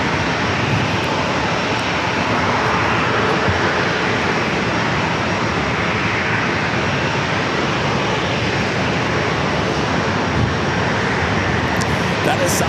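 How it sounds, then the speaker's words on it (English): A Southwest Airlines Boeing 737-700 jet at San Diego airport gives off a loud, continuous broadband engine roar that holds steady throughout, close by, with a voice faintly present beneath it. "That is Southwest Airlines flight 1786 heading to Nashville, Tennessee at 737-700"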